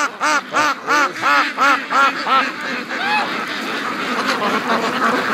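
Muscovy ducks quack loudly and close by in a rapid rhythmic series of harsh calls, which then fade into a busier wash of water and softer duck noise on a free-range farm.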